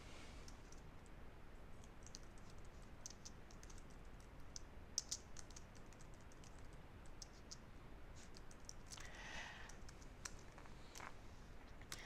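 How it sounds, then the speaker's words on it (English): Fingers type on a computer keyboard, a soft, faint patter of key clicks spread across a quiet room hiss, with one louder click midway and no talking. "I would type in George Brown"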